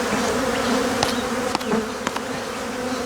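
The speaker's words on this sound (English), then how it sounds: "A lot of these bees are after the honey." Honey bees swarm and buzz around stacked double hive boxes on a far stand during a robbing frenzy. The dense, steady drone fills the air, with a few louder bees passing close by.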